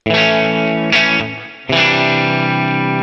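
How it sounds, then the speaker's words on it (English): Kiesel electric guitar played through a Fuchs 100-watt tube clean amp, sustained chords ringing out, briefly cut and decaying before a fresh strummed chord rings on, close and loud with no talk. "This is a Kiesel running through a Fuchs 100-watt tube clean machine."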